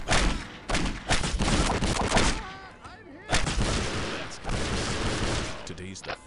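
Gunfire in Postal 2 rattles in loud, heavy sustained volleys, pausing briefly midway before another long burst resumes, with voices talking over the shooting.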